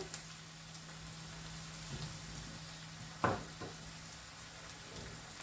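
Carrot and onion sizzle quietly in a frying pan, a steady soft crackle with a couple of brief stirring clatters partway through.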